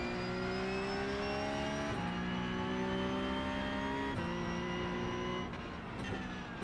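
A race car engine in the iRacing PC sim during a practice session at the Nürburgring drones loudly and steadily, its pitch rising through each gear and dipping at shifts about every two seconds.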